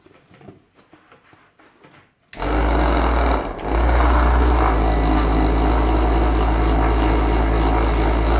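An Ultimate Speed UPM 120 B1 electric polisher switches on after a quiet stretch and runs with a loud, steady motor whine, briefly dipping once before resuming at full, constant speed.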